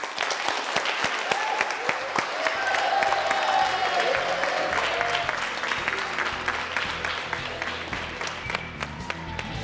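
An audience claps for fundraisers collecting a cup at a prize-giving, dense applause with sharp individual claps, swelling slightly then easing over several seconds, with faint crowd murmur beneath.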